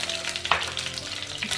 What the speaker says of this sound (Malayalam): എണ്ണ ഒഴിച്ച് അതൊന്ന് ചൂടായി വരുമ്പോൾ നമ്മൾ അതിലേക്ക് ഒരു 4 വറ്റൽമുളക്